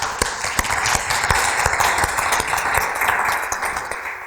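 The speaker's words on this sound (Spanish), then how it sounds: "Yo os pido un aplauso para él." An audience at a conference talk applauds a speaker with steady clapping from a medium-sized crowd, a dense and even patter that holds through the moment before tapering slightly.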